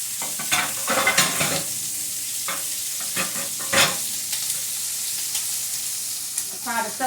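Lemon pepper chicken wings sizzle and fry in a pan, with several clattering stirs and scrapes early on over a steady hiss of hot oil.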